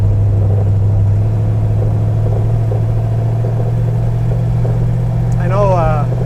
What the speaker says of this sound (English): I come back out of overdrive because I'm slowing down.